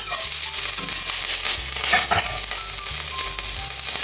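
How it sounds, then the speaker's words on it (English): Cut chili frying in a pan with deep-fried eggplant, a loud, close crackling sizzle with bursts of spattering and low stirring thumps throughout. "Put in the chili we have cut."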